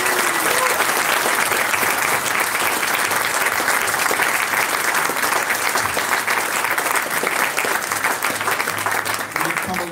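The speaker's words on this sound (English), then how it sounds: "round of applause for everybody" A large conference audience at JuliaCon 2018 gives a sustained round of applause, loud and dense, with steady clapping that fills the whole stretch without letup.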